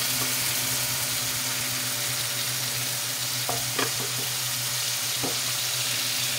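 Pancit canton egg noodles fry in a pan with a dense, continuous sizzle while broth is poured in, punctuated by a few sharp utensil clinks, close and without talk.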